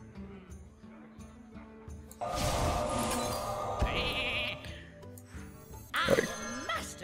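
A cartoonish sheep bleats in the Hearthstone card game, a brief bleat amid chiming game effects and a swell of background music, with a person talking quietly alongside.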